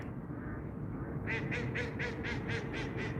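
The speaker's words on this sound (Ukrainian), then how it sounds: "Красиві качки." Ducks bathing on a pond in Hloba Park quack in a steady run of about eight calls, fairly close, over a constant low rumble of background noise.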